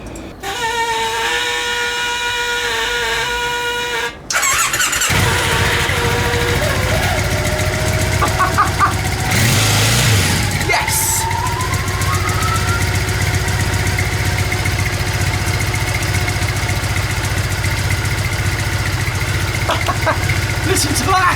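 An old barn-find motorbike turns over briefly, then catches and settles into a loud, steady, slightly uneven idle with some revving partway through, while someone talks over it.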